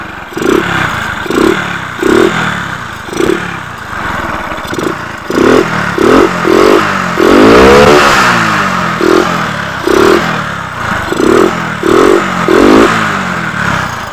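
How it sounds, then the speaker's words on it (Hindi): A motorcycle engine turns over and revs in repeated short bursts, loud and close, with one longer rev in the middle. "अब बाइक को करते हैं स्टार्ट"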